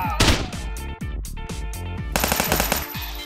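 Bursts of rapid automatic gunfire and sharp shots in the video game Police Stories, loud and close. Dense rattling volleys repeat with short gaps, then a heavier sustained burst comes near the end.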